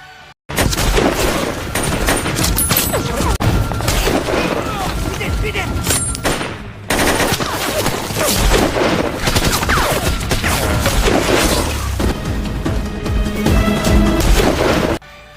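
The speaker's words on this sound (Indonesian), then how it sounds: "beberapa tentara Georgia berhasil ditembak anggota Gazakov." Battle scene from a war film with Georgian soldiers under fire: dense, continuous bursts of gunfire and crashing booms fill the whole stretch, loud and close, with a short gap midway and shouting voices mixed in.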